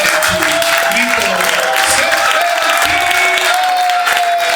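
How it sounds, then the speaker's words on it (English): Crowd noise from an audience at a live show with a reunited band, steady and loud throughout, with a broad wash that could be applause and cheering plus whistle-like tones and voices mixed in. "So let's give a round of applause."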